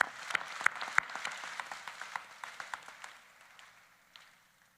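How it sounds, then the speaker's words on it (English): Audience applause at a Rutgers School of Management and Labor Relations convocation ceremony, a steady patter of clapping from a crowd that is loud at first, then gradually thins and fades away. "Another applause."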